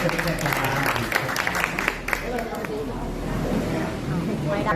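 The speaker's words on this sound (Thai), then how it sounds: "ขอเสียงปรบมือครับ" Audience at a Thai film press launch applauds in a steady wash of clapping, mixed with crowd murmur and a low background hum.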